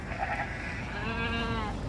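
A sheep in a village flock bleats a couple of times at moderate distance over soft outdoor background noise.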